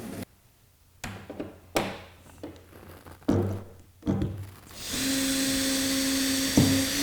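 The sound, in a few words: drilling holes in a workbench with a drill and guide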